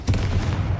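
Confringo spell blast in Hogwarts Legacy, a brief, loud, booming burst with a deep rumbling body lasting under a second.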